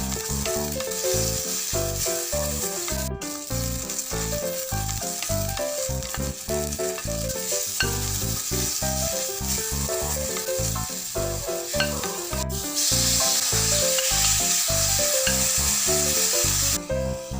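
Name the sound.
stir-frying japchae ingredients in oil in a pan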